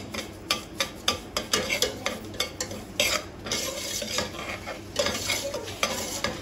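Halwa being stirred and roasted on low heat in a pot, a spoon scraping and knocking against the metal in a steady repeated rhythm over a soft background sizzle, close and fairly loud.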